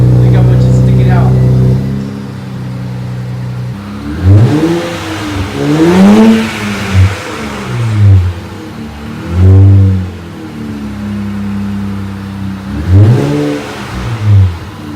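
A car with a new aftermarket exhaust revs up repeatedly, each throttle blip swelling into a deep rising growl and falling back to idle; voices talk around the revs.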